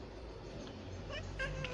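A cat meows near a nest of kittens, a few faint, thin mews rising toward the end over a steady low room hum.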